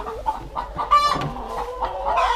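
Hens cluck and murmur in a henhouse on a spring farm during chilly weather, with repeated short, fairly close calls and one louder squawk near the middle, and no voices.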